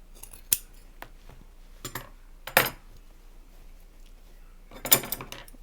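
Scissors snip through the fabric of a sewn cross body bag while it is trimmed, four or five sharp, close metallic cuts spaced irregularly over a quiet background, with no talking.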